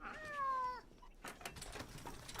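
Domestic cat being lifted off a table: one clear, drawn-out meow up close, followed by soft rustling and handling noises.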